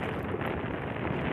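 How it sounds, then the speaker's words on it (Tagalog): Strong wind buffets the microphone outdoors by the water with a steady, dense roar and no voices. "Medyo malakas yung hangin ngayon."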